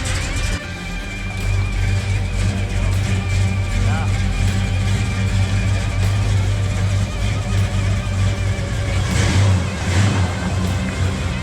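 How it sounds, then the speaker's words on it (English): A square-body pickup truck out on a test drive gives a steady, close engine drone with low rumble throughout, rising slightly near the end, with faint voices underneath. "let's take it for a drive and see if it has brakes"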